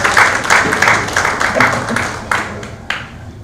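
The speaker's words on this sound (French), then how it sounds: "Je vous demande de l'applaudir." An audience applauds at an awards event, a dense burst of clapping that rises and then thins out toward the end, heard loud and close.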